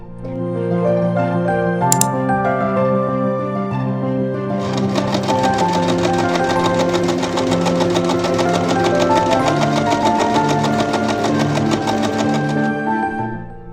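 A sewing machine runs steadily while stitching the top and bottom halves of a summer dress together at the waistline, a loud, even whirring hum after a quieter start, with no talking.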